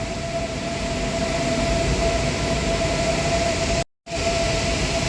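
Steady diesel-electric locomotive engine at Hua Lamphong railway station in Bangkok, a constant loud drone with a persistent tonal hum, running without a break apart from one brief cut near the end; no voices.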